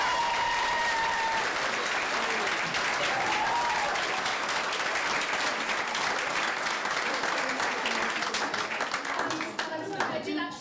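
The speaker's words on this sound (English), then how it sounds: "I just think they deserve one more big round of applause." Big round of applause from a theatre audience for the crew after a Valleymount Theatre Company production of A Midsummer Night's Dream, sustained dense clapping filling the room, with a couple of voices faintly underneath.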